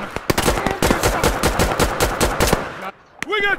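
Rapid bursts of machine gun fire in a tactical shooter game, Operation: Harsh Doorstop, hammer away loud and close for nearly three seconds, then cut out briefly before a short voice is heard.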